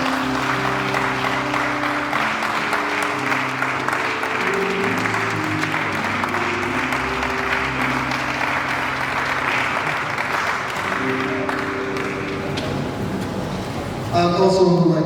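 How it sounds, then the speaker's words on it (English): A university valedictory lecture audience claps continuously for a celebrant on his birthday, a broad steady patter layered over sustained tonal backing sounds, with a brief louder burst near the end. "please let's give him a round of applause"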